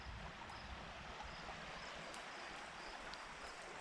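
Steady rushing flow of Loyalsock Creek beside a campsite, a broad continuous wash of running water close by with no voices.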